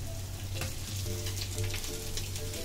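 Sole (lepa) fish frying in hot oil in a Malvani home kitchen, a steady dense sizzle with bubbling crackle running continuously and close throughout.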